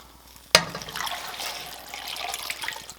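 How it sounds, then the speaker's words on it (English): Water is poured from the tap into a saucepan holding potatoes for a potato rivel soup, starting with a sharp splash and then running as a steady, close rush for a few seconds with no talking. "And then we're going to add water."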